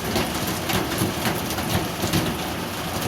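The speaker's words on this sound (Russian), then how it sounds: "Ливень-то все, похоже, усиливается." A heavy summer downpour in Yeysk pours down as a steady, dense, loud hiss of rain drumming on surfaces, continuous throughout with no voices.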